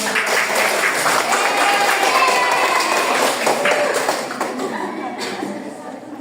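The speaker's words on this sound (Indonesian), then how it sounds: "tepuk tangan dulu untuk Yen" Classmates in a school civics class simulation clap for a fellow student, a loud, dense burst of applause that carries on steadily before thinning and fading toward the end.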